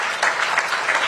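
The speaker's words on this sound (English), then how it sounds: "Please give yourselves a big round of applause." Audience applause at the opening of the 2023 Connected Triangle+ Summit, a dense, steady wash of many hands clapping close and loud, filling the whole moment with no voices over it.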